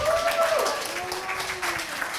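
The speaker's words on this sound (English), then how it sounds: "Let's have a round of applause for our first speakers." Audience applause for the first speakers at a Nerd Nite talk on falconry, brief, fairly soft and continuous.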